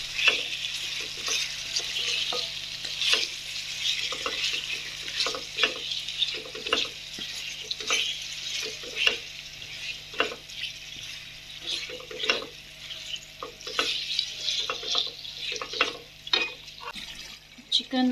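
Boneless chicken frying in a pan for a white qorma, gentle sizzling under repeated scraping and clinking strokes of a stirring spoon, close and fairly quiet.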